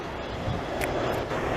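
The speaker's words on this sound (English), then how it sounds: "it's a 767 Air Canada Rouge" An Air Canada Rouge Boeing 767 airliner passes at a Montreal airport, its engines a steady broad roar with no talk over it.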